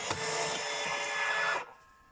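Worn cigarette-filling machine grinding and scraping as it fills tubes, a harsh continuous rasp for about a second and a half, close and fairly loud, then cutting off abruptly into a faint background.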